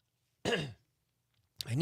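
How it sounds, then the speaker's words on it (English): A single short throat clearing close to the mic, followed after a pause by the start of another throaty sound. "Pardon me. Clear your throat."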